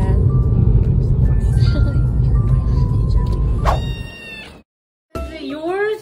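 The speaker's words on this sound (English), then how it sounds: "We literally got a kitten." A young kitten meows several times in high, thin cries over the hum of a moving car, with people talking around it; after a brief silence, a few more clear meows follow.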